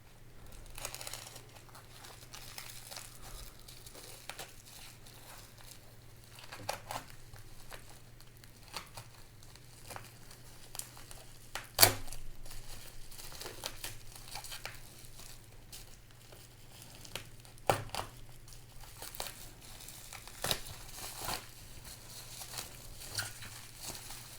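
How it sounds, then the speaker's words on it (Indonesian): Packaging for KZ EDX Pro in-ear earphones is unboxed with soft, intermittent crinkling and tapping, close and quiet, over faint background hum. "Jadi kita langsung unboxing aja kali ya."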